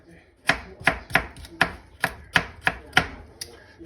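A knife finely dicing carrots for pea soup, eight crisp, evenly spaced chops on a board, close and clear with no talking.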